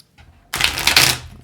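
A brief riffle shuffle of a tarot deck, starting with a faint rustle and then a loud, close, dense burst of fluttering card snaps for about a second.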